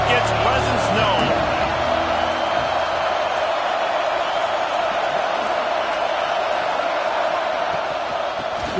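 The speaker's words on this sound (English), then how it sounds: "This crowd ready to make its presence known." A football stadium crowd roars in a continuous dense wash of cheering and noise, loud and sustained, with a commentator's voice talking over it.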